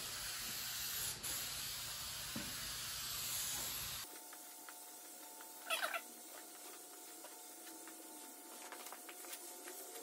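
A short burst of aerosol spray hisses for a moment against a steady background hum, then the room goes quiet with faint clicks.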